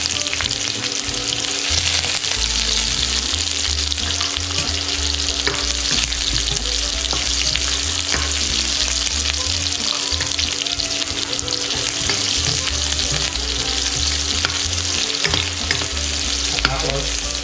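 Onions frying and being stirred in a pan for chicken adobo, a steady loud sizzle with scraping stir sounds throughout, no talking.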